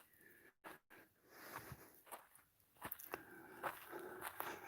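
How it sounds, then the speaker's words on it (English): Footsteps crunch on frozen snow in an uneven series of sharp, close crackles, quiet and outdoors with no talking. "It's the most snow I've seen here. Crunchy, crunchy."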